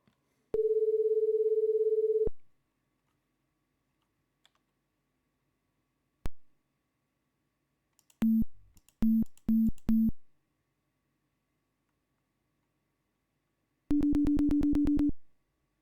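Telephone tones in the Amiga version of the 1989 Maniac Mansion game: a long steady tone, a click, a run of short repeating beeps, then a final buzzing busy-signal burst, all clean and alone.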